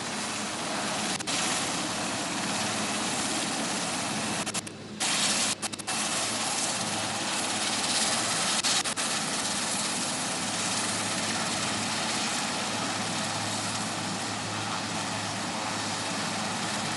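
A naval anti-submarine helicopter flying at a Navy Day ceremony at the Gateway of India, giving a continuous broadband engine and rotor roar, steady and fairly loud, with brief dropouts early on.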